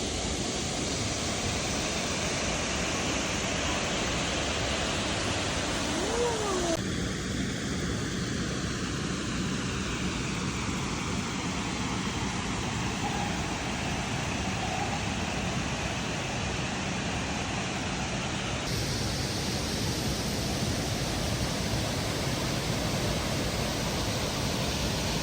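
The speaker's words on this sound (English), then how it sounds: "we're here at the second waterfall" Waterfall in Laos, a constant broad rushing roar filling the whole stretch, loud and close, with no talk.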